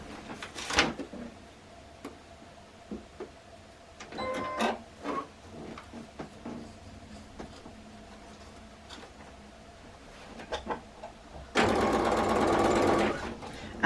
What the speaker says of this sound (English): And I'm stitching, literally, I'm lining up the fabric on that particular line.